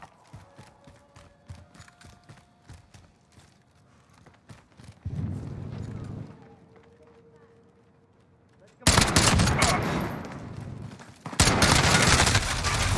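Bursts of automatic gunfire in Call of Duty Modern Warfare, with quieter scattered shots early, then loud sustained volleys near the end, mixed with game radio callouts and a player talking.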